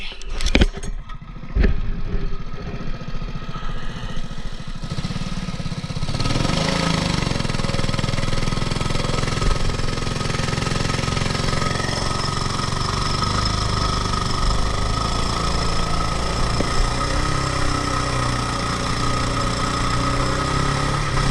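A Mud-skipper longtail mud motor with a fresh paint job and an 8-inch prop runs at full throttle, a loud steady drone that climbs after a rough start and holds near and constant with no voices.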